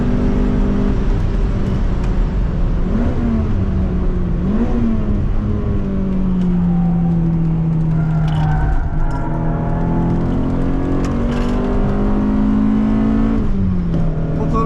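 BMW E30 M3 engine accelerating around the İstanbul Park race track, a steady loud drone with rising and falling pitch as it revs through gears, heard from close by without pause.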